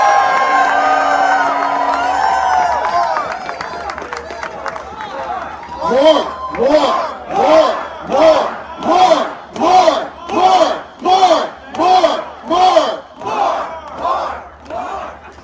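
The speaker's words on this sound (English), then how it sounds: "let's give them another round of applause for that work" Rally crowd outside a senator's office erupts in rhythmic chanting and cheering, a loud repeated pulse of shouted voices after a short stretch of amplified talk.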